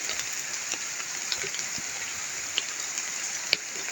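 Steady rain falls nearby, with a constant hiss and occasional sharper drops striking a surface.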